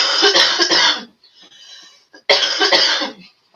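Two loud, close coughing fits from a person with allergy trouble, each a rough burst of several coughs, separated by a quiet breathy pause.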